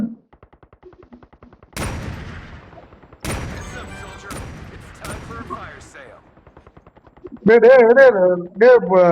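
Gunfire in a Call of Duty battle royale match, bursts of rapid automatic shots and sharp single cracks with loud booming impacts, separated by brief pauses, with players' voices talking over the game.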